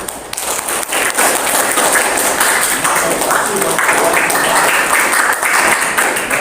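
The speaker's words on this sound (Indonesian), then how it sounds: "Tepuk tangan buat kalian semua di sini." Pupils in a seventh-grade informatics classroom clap together, a steady wash of applause that holds at full strength from start to finish with no talk over it.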